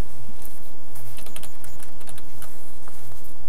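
Rapid, close clatter of keys on a computer keyboard as a short command is typed, continuous light tapping with no voices.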